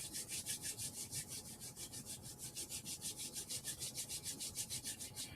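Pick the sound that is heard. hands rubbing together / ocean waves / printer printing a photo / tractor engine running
hands rubbing together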